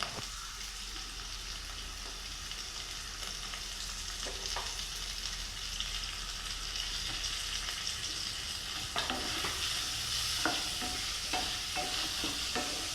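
Sliced onion and curry leaves fry in a pan for a pearl spot fish dish, a soft continuous sizzle with occasional spatula scrapes and stirring clicks, faint and close without talk.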